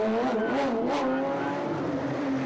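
Porsche number 8 race car pulling away during a 24-hour endurance race, a loud, steady engine drone with its pitch wavering and then holding as it accelerates, close and filling the scene.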